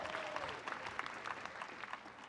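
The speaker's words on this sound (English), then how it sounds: "I like the clapping." A high school graduation audience keeps up steady applause that fills the space, with many hands clapping in a dense wash.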